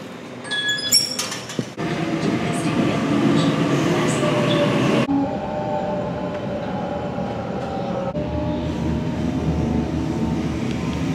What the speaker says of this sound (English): I'm gonna hop on the train real quick